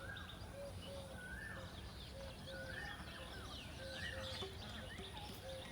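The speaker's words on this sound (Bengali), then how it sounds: "পাখির ডাক, কোকিলের ডাক, অভাব নেই" Birds, including a cuckoo, call in the countryside on a hot spring day: faint, repeated whistled notes and chirps at a steady rhythm over quiet background hiss, distant and soft.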